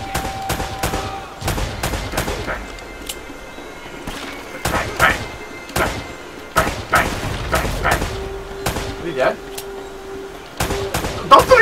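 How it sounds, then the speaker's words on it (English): Gunfire in the Uncharted: Drake's Fortune video game, with sharp, repeated shots cracking out in irregular bursts throughout, mixed with people talking and game sounds. "Who shot me? Who's shooting?"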